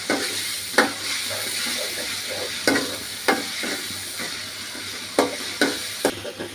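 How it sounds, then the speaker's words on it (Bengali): Onion, garlic and ginger paste fries in a pan for a coral fish and bean curry. A continuous sizzle runs throughout, broken by regular sharp scrapes and taps of a spatula as it is stirred. "এগুলো আমি লাল লাল করে কিছুক্ষণ ভেজে নিই, কাঁচা গন্ধ দেওয়া পর্যন্ত"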